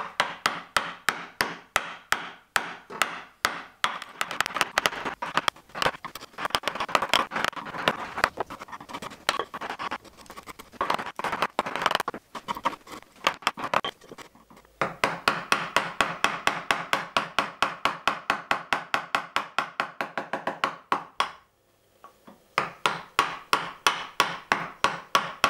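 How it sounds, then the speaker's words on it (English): A carving gouge driven by a mallet into wood for a one-piece guitar body, giving steady sharp knocks in quick rhythmic runs with short pauses between bursts, close and alone. "I enjoy using my carving gouge and my mallet a lot more"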